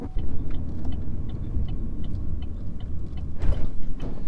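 A vehicle drives on a farm road, heard from inside as a steady low engine rumble with scattered rattles and ticks and a brief louder bump near the end.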